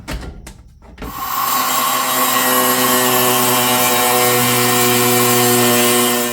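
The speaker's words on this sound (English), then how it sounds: "I'm just taking a grinder to it" An angle grinder starts up on a brand new metal box, a short spin-up after some brief handling noise, then a loud, sustained high whine of the disc running close by.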